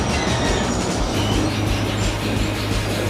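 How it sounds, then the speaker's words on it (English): An old-style train built in 1960 rumbles past loudly and close on Hanoi's train street, a dense continuous roar of wheels and carriages. "Train, yeah. It's got an old style of train."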